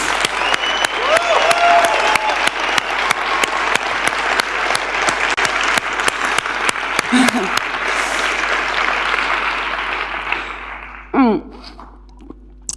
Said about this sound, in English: can we give Mark the biggest round of applause?